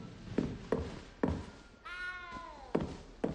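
A single clear, wavering meow from a cat in Hogwarts Legacy rises up between heavy, evenly spaced footfalls in the game, sounding fairly close.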